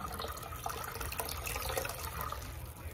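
Vinegar is poured into a container of warm water to mix a neutralizer, giving a steady, close splashing and gurgling stream of liquid that runs continuously without interruption.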